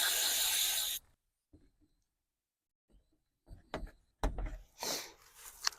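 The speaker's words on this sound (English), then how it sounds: "I'm going to spray a little contact cleaner on here." Contact cleaner sprays from an aerosol can onto a 50 amp RV power plug in a single loud hiss of about one second, followed by quiet handling clicks and rustling.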